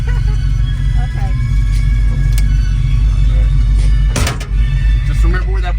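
An older Ford Maverick with automatic transmission rolling along, its engine a steady low rumble heard from inside the cabin, loud and continuous, with people talking over it.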